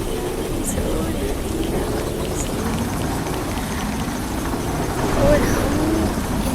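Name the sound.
rain in Minecraft, from a video game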